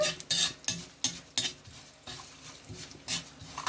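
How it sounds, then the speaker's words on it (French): Sesame seeds, a heaping tablespoon, toasting in hot oil for a potato dish with honey and chili, heard as a soft background sizzle broken by sharp scraping stir strokes and clinks of a utensil against the pan. "je vais ajouter une cuillère bien pleine à soupe de graines de sésame dans mon huile. Je vais laisser griller les deux ensemble."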